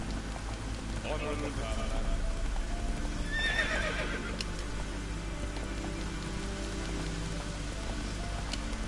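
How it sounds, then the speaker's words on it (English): A horse sprinting in The Witcher 3 video game, with steady galloping hoofbeats under rainfall and a clear neigh partway through, moderately loud and close. "Finally, I can sprint with my horse."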